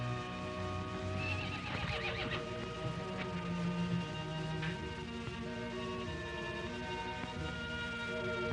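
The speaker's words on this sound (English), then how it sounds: "It's your horse." A horse whinnies loudly, then neighs again, with faint hoof clops and a steady background hum.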